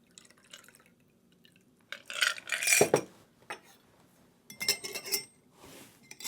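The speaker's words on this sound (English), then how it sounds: "strain into the glass." A Daniel de Rouge cocktail of Old Tom gin and orange bitters is strained into chilled Nick and Nora glasses: two close bursts of pouring liquid with glassy clinks, separated by near silence.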